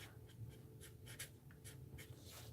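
Pen scratching on paper while lettering a handmade meal plan dashboard, a steady run of short strokes and taps, close and quiet with no talking.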